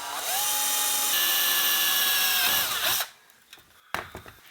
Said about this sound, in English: And we're going to drill our little 1/8 pilot hole.